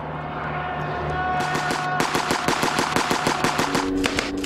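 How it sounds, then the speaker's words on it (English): Bursts of machine gun fire in a WWI air battle over the Somme Valley: a steady hum of aircraft engines, then loud rapid rattling volleys that start midway and repeat in quick regular shots. "Bursts of machine gun fire from ground and air erupt across the Somme Valley"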